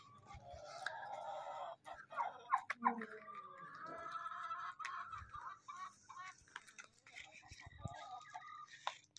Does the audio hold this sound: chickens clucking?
yes